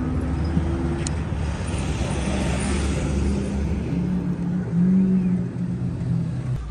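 Baja 250 race trucks and street traffic rumble steadily in a lit-up town street the night before the race, with a low engine drone and a louder vehicle swelling past near the end.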